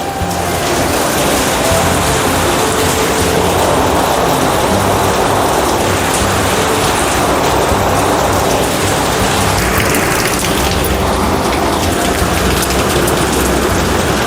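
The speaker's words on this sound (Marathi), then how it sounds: "केवढा पाऊस आहे बघा." Heavy monsoon rain pours down steadily in Mumbai, heard from a covered passage outside a home, a dense continuous hiss that swells and eases slightly but never stops, with no voices over it.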